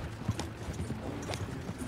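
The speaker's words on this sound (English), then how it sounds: "Go easy on them horses, will you?" Horses' hooves clip-clopping in Red Dead Redemption 2 during a train robbery mission, a steady, close rhythmic patter of hoofbeats at moderate volume over a low background rumble.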